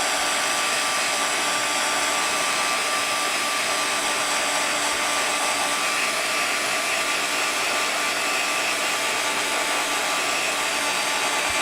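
A heat tool blows steadily and close for the whole stretch, warming Ranger holographic embossing powder on paper with a continuous, even whooshing hiss and no speech.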